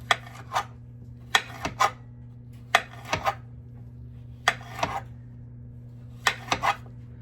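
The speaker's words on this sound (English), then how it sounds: "now we got our zucchini and our squash all cleaned up. We'll cut that in half." Knife chopping zucchini and squash into half moons on a cutting board for an easy home-cooked dinner, in uneven bursts of two or three sharp, close taps separated by pauses, over a steady low kitchen hum.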